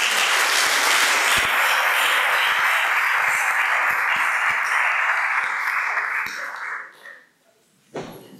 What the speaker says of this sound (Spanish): recibamos con fuerte aplausos